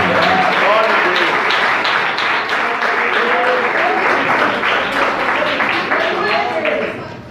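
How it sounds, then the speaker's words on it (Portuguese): A church congregation claps loudly and steadily in praise during an evening service, dense continuous applause filling the room with voices mixed in. "Podem louvar ao Senhor com as palmas bem abertas"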